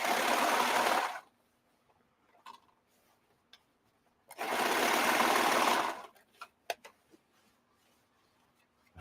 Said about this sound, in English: I think this serger does not like this thing.